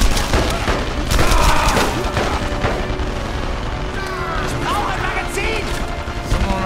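Gunfire from the video game Enemy Front: repeated close bursts and booming shots that keep up through the clip, with a voice talking over them.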